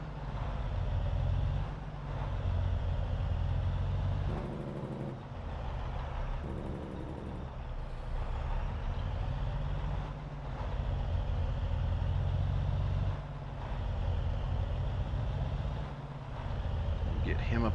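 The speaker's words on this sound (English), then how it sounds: "we're going to take the old Kenworth up." A Kenworth truck in Farming Simulator drives along with a steady low engine drone, loud and continuous, changing briefly as it shifts, while a person talks over it throughout.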